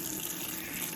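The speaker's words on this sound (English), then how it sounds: "I am literally just going to run cold water gently into the water" Cold tap water runs gently into a water bath, a steady soft hiss of flowing water heard alone at low level.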